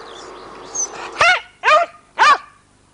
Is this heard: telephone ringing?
no